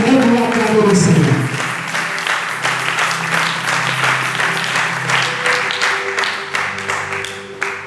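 A church congregation at a Sunday service bursts into loud rhythmic clapping and acclamation of the Lord, steady hand claps with singing and shouting voices over them, close and full.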